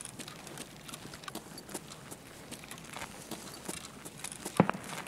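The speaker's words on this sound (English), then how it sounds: "I hear footsteps by the train tracks over by the jump over." Footsteps in Tarkov near train tracks, faint and distant, a soft irregular patter of steps with light clicks and one sharper knock near the end.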